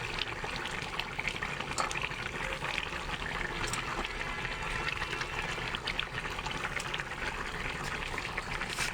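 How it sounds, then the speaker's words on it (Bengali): Dried lentil dumplings (bori) dropped into a fish curry of rohu, aubergine and potato simmering on a home stove; steady close bubbling and liquid churning runs throughout with no talk. "এই যে এখন বড়িগুলো দিয়ে দিব।"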